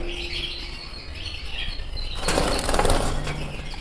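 A sudden burst of wings flapping close by as birds are caught at the end of a breeding season, loud and fluttering for about a second and a half, with faint chirps in the background.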